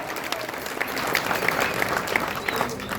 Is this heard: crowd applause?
yes